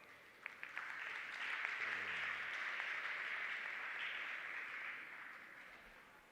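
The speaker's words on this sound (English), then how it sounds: "Let's give him a big round of applause." Applause from a campus community safety forum audience at Mopani TVET College, welcoming the acting campus manager; a moderate, steady patter of clapping from a room of people that swells and holds for several seconds before tapering off.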